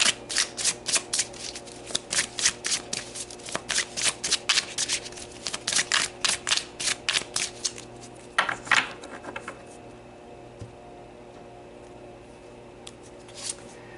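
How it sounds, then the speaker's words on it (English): Archangel Metatron oracle cards shuffled close up, a steady rhythmic riffle of crisp card slaps for about eight seconds, followed by quiet handling and a few soft taps as cards are pulled. "So let's pull some Archangel Metatron cards."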